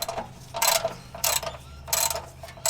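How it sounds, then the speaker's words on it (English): Ratcheting wrench loosening the sump plug on a Ford Transit van, heard as three bursts of rapid metallic clicking spaced evenly apart, close and fairly loud with short pauses between strokes. "You want to crack the sump plug to crack it open."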